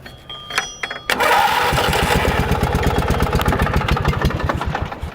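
Engine of a cheap second-hand riding lawn mower rigged as a rally mower, catching at about one second and then running loud and close with a steady rapid pulsing beat as the throttle is opened up.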